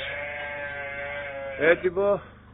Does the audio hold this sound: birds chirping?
no